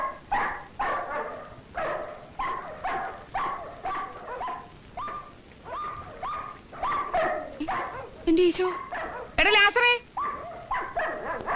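Several dogs bark in a steady string of sharp, loud barks spaced about half a second apart. A few higher yelps and whines break in near the end.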